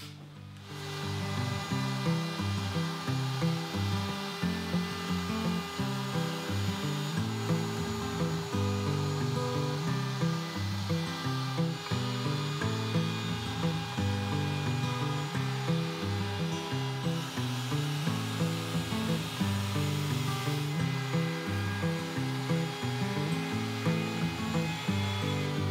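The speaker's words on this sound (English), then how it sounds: "I just made the very last pass with the router" A router cuts a tapered edge around a wooden tabletop, a loud continuous whine with rhythmic rasping as the bit moves along the wood, alone and close.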